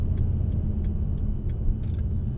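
Mercedes-Benz CLS63 AMG on a race track, a steady loud low engine rumble held throughout as the power comes on, with faint ticking above.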